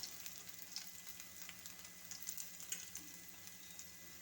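Garlic and onion frying in a little hot oil in a pan, with ginger and mustard seeds already added, giving a soft, faint sizzle dotted with tiny pops and crackles, no talking.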